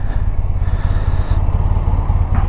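A 1986 BMW R80 motorcycle rolling slowly at about ten miles an hour and braking to a stop, its low boxer-twin engine throbbing steadily and loudly up close throughout, with no talking.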